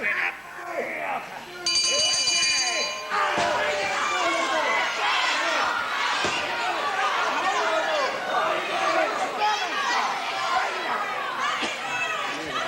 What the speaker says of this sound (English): understands that the bell had gone